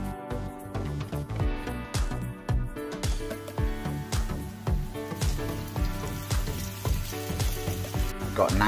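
Finely cut bacon and fresh minced beef frying in a pan for a dirty cheeseburger bread, a steady loud sizzle with crackling pops and repeated scraping or stirring clatter.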